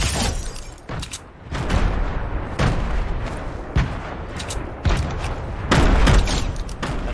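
Grenades explode amid gunfire in a shooter video game, with repeated heavy booms and rattling shots over a dense, loud backdrop of battle noise.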